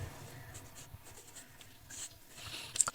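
Writing out a math solution by hand, a quiet close scratching of pen on paper in short irregular strokes, with no talk.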